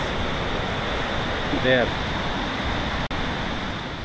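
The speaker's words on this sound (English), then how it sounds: "Here are some information about this waterfall." The Dettifoss waterfall in Iceland gives a constant, broadband roar of falling water that fills the scene, with a short spoken word heard briefly over it.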